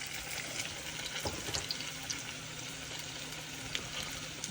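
Pakodas deep-fry in hot oil in a home kitchen, a steady close hiss and crackle of bubbling oil that runs without pause and without talk.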